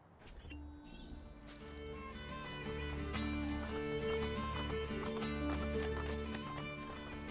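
A horse in Assassin's Creed Brotherhood trots with steady clip-clopping hooves under a sustained musical score, with a brief whinny-like cry near the start.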